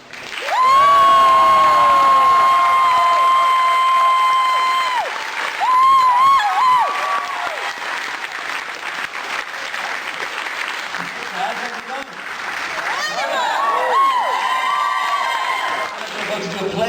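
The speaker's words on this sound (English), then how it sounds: "round of applause for Matt, Ryan, and Nick." Convention crowd at a Legends of Tomorrow Q&A panel at Pensacon breaking into loud sustained applause with cheers and whoops, a dense roar that eases slightly midway and swells again.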